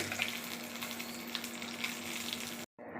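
Mustard seeds, urad dal and curry leaves sizzling in hot oil, a steady close crackling fry that cuts out briefly near the end.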